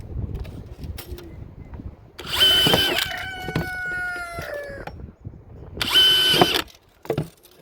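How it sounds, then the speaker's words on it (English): A power drill whines in two short bursts, loud and close, drilling a hole in a plant container, with a rooster crowing in the background between them. "Just drilling a hole on a around."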